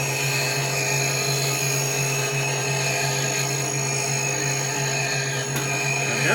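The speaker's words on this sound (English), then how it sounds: "I definitely slowed the auger down more than I was expecting." Automated auger system runs inside an oil mill, a loud, steady, droning motor whine with a low hum and a bright mechanical buzz, continuous and unbroken throughout with no voices.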